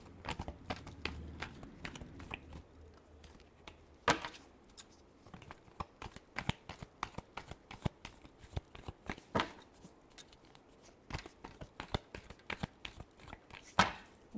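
Tarot cards shuffled by hand in a long series of crisp riffling and slapping bursts, close and quiet, with short pauses between.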